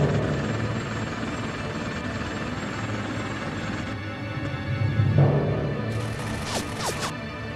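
A helicopter in the video game Bullet Witch drones steadily with a loud, continuous rotor and engine roar, joined near the end by a few brief high whooshing effects.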